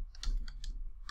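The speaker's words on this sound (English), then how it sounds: "I'll simply type in pip" Keystrokes on a computer keyboard as a command is typed into a command prompt, a few quick, close, light clicks in an irregular rhythm with no talking.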